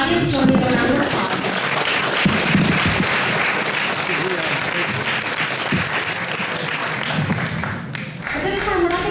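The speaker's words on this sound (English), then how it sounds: "audience, join me in a round of applause" Sustained applause from the audience at a local candidate debate in the Round Lake area, a dense, steady clapping of many hands lasting several seconds, with some voices mixed in.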